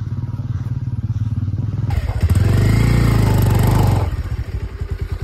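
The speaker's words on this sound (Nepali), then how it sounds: "हाम्रो बीच बाटोमा बाइक फसिरहेको छ" A motorcycle stuck in the middle of a road on a hill trip, its engine chugging, then revving hard for about two seconds before dropping back to a rough idle.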